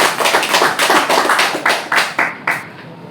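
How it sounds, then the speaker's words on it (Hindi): An audience at a DXN branch office talk claps together in a run of loud, fairly even bursts that thin out and grow more spaced toward the end. "एक जोरदार ताली होनी चाहिए सर"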